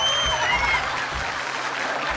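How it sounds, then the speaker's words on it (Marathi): Studio audience on a Marathi TV show applauding, a steady dense wash of clapping lasting the whole short stretch at moderate level with no one speaking over it. "जोरदार टाळ्या होऊन जाऊ दे."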